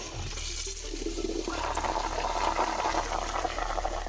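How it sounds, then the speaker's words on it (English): A school toilet flushing, a loud continuous rush and gurgle of water running on close by throughout, with no talking. "Don't tell me this person's recording themselves flushing stuff too."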